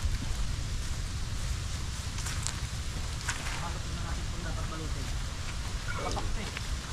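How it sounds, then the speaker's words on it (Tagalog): Heavy rain pours down steadily outdoors during a riverside fishing and cooking trip, a dense constant hiss with scattered drip and splash sounds throughout. "Sobrang lakas ng ulan."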